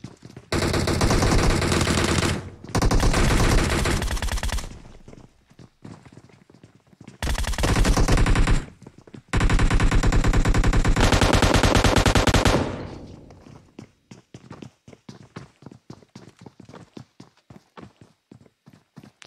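Video game gunfire during a professional scrim match: several long, loud bursts of rapid automatic shots in the first half, followed by quieter scattered shots and clatter.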